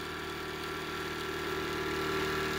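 3D printed pulse motor running at speed, a steady dense whirring drone with a constant tonal hum, close and unbroken.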